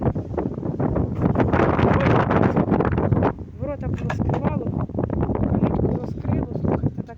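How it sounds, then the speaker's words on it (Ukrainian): Strong wind buffets the microphone in heavy rumbling gusts while a person talks over it. "Прямо страшно вітрисько."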